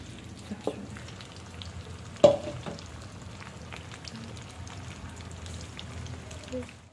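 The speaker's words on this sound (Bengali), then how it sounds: "এসে চিকেনটা ভেজে নিচ্ছি" Marinated chicken fries in a kadai with a steady, soft sizzle and crackle throughout, plus a single louder clatter of stirring partway through.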